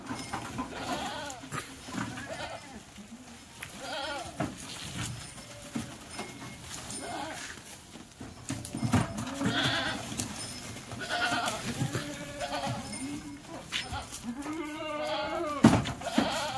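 A group of ten goats being loaded into a vehicle for a long trip to Shankeshwar, Karnataka, bleat repeatedly and overlap one another, some calls near and loud, others fainter, over a busy background.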